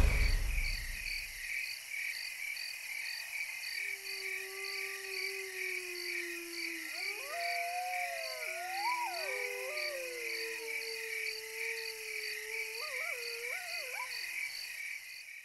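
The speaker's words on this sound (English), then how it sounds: "the only sound I hear today are the crickets" Crickets chirp steadily outdoors on a still morning in a continuous high trill, while a frog croaks and warbles in the foreground over the insect chorus.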